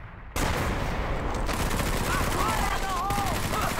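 Sustained rapid gunfire in a Medal of Honor: Vanguard battle, loud and dense after a brief quiet start, with a voice briefly heard over the shooting.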